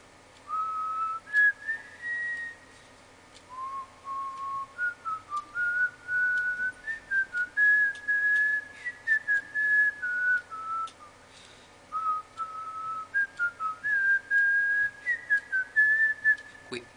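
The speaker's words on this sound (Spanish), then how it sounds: "Yo voy a ir silbando para que me puedas ver por dónde voy." A person whistles a wandering melody of short, clear notes in broken phrases, close and fairly loud against a quiet background.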